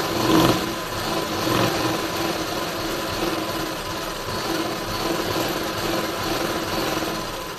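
A sewing machine runs steadily while stitching a pleated kurti, a close, continuous mechanical whir with no pauses and no talking.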